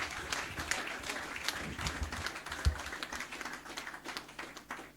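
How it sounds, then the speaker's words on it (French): Church congregation clapping in acclamation, a moderately dense round of hand claps with some uneven, rhythmic pulses and a few louder individual claps. "L'acclamation là est petite."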